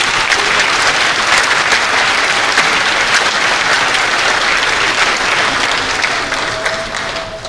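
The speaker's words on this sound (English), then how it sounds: "Let's have a round of applause." A community gathering's audience gives loud, sustained applause for about seven seconds after local workers from Sacramento are thanked, dense and steady before tapering off near the end.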